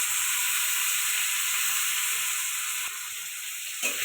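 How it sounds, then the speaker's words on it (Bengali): Shrimp fry in hot oil in a kadai wok, giving a steady, close, hissing sizzle that runs throughout with only faint clinks underneath and no voices. "চিংড়িটা কড়ায় দিয়ে দিলাম।"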